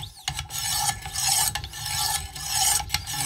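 A knife edge being sharpened on a Wicked Edge WE130 sharpener, with repeated close raspy strokes of abrasive against steel in a steady back-and-forth rhythm, no voices.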